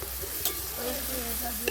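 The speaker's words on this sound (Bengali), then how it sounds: "মটরশুঁটিগুলোকে সিদ্ধ করে রেখেছিলাম, মটরশুঁটিটা দিয়ে দিচ্ছি" Boiled green peas dropped into a pan of frying potato curry, a soft tumble and scrape of stirring over a gentle, steady sizzle, with two sharp utensil clinks.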